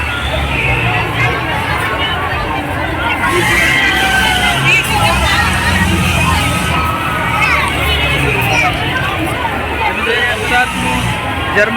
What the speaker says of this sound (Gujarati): આ બાજુ પણ લોકોની ભીડ છે વધારે.